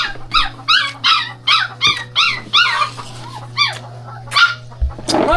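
A dog barks repeatedly in quick, high-pitched yips, nearby and insistent, over a steady low hum.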